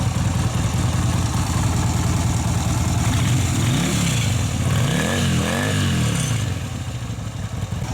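A Yamaha Virago motorcycle engine with loose exhaust baffles idles with a lumpy, steady rumble, then revs up and down in a few rising and falling pulls before settling back.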